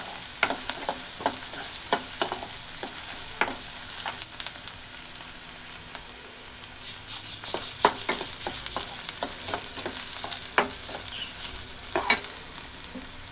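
Ingredients for uggani frying in a pan, a steady close sizzle broken by repeated sharp clicks and scrapes of a spatula stirring throughout, with no talking.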